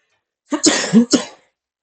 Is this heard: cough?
yes